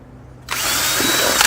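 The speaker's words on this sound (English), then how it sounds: "First I'll drill the 2 holes for the top loop." A power drill bites into a dried gourd, switching on abruptly after a quiet moment and whining steadily and loudly to the end, close up and with no talk.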